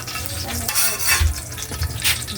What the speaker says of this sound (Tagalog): Magprito ng tuyo.